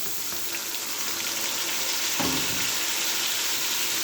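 Bulgur kofta frying in a pan, a dense, steady hiss of hot oil, with a brief thud and surge of sizzle about halfway through as half a kilo of chopped tomatoes lands on top; no one speaks.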